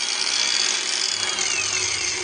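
A BOERTE angle grinder, a 2024 model rated around 8000 rpm, spins freely at its lowest speed setting with a steady, loud, high whine and no talking.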